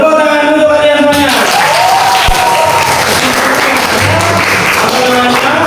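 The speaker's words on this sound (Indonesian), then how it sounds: "tepuk tangan untuk kalian semuanya" A classroom audience applauds a class presentation, a dense, loud patter of many clapping hands that swells after a brief voice and carries on to the end.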